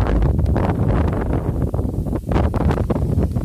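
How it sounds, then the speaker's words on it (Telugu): Strong wind gusting across an open paddy field under a stormy sky before rain, a loud continuous roar with buffeting surges on the microphone and no talk. "గాలి కూడా వీస్తుంది చూడండి."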